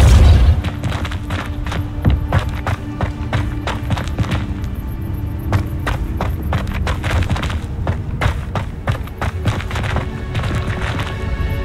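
Depulso force spell impacts in the Hogwarts Legacy video game, a dense run of sharp thumps and booming hits over a busy low rumble of game noise, with no speech.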